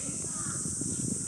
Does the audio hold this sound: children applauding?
no